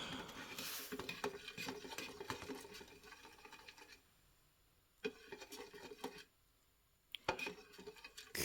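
Wood finish stirred in its can for a scrap-wood candleholder: close scraping and clinking strokes in irregular bursts, broken by two quiet pauses.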